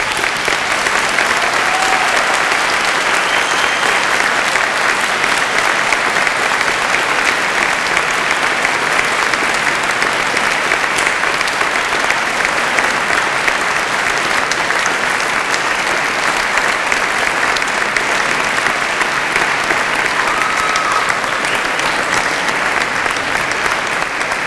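Graduates at a Manchester degree ceremony stand and applaud their family and friends, a dense, steady roar of clapping from a large hall crowd that holds evenly for the whole stretch without a break.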